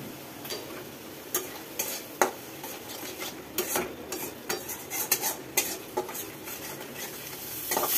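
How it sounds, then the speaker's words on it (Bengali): Soaked boiled chickpeas stirred and fried in spice masala, with a spoon scraping and clacking against the pan in an irregular rhythm over a constant close sizzle. "এবারে এই কাঁচা ছোলাটা এই মশলার মধ্যে দিয়ে কষিয়ে নেব।"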